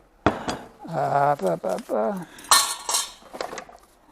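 A bowl knocks and clinks as it is placed down in a home kitchen, a few sharp ceramic taps in a row, with talking layered over them.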